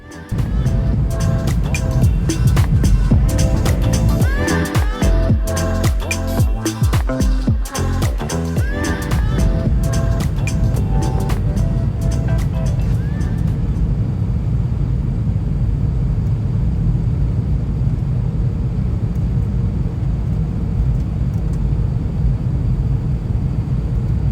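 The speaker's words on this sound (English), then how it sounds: "Check out our landing into Toronto." An Air Canada A320 lands in Toronto after a go-around, heard from the economy cabin: rattling touchdown clatter and squeaks early on, then a loud, steady roar of engines and rolling rumble continuing to the end.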